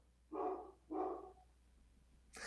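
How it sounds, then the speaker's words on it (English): A dog barks twice in the background, two fairly loud, separate woofs about half a second apart, followed by a brief sharper sound at the end. "Sorry about my dog barking in the background."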